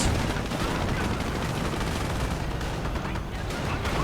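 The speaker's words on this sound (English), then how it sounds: "Grenadiers, LMG firing away." Light machine gun fire in the real-time strategy game Company of Heroes, a dense, continuous rattle of automatic gunfire mixed with battle noise, loud and unbroken throughout.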